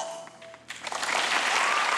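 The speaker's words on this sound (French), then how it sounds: "Des applaudissements pour la forme" In a theatre, applause swells from quiet to a steady, moderate clatter of many hands after a brief faint voice.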